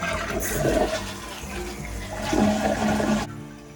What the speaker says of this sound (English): We're going to flush it.